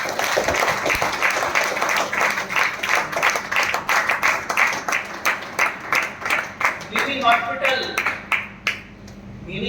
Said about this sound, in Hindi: तालियां